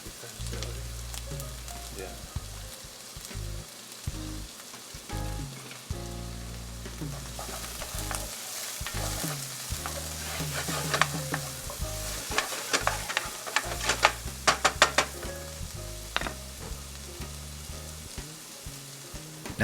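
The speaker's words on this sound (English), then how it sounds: "Once you see the oil start to smoke, now we're going to add our onion and our celery." Chopped onion and celery fry in smoking-hot oil, a close, continuous sizzle with frequent stirring clatter and scrapes building over the span; no talk.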